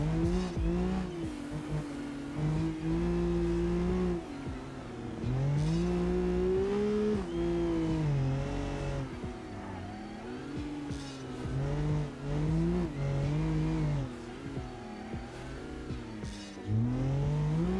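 Race car engine in the BeamNG driving game, revving hard and rising and falling in pitch through gear changes, loud and continuous with brief tire squeals and no talking.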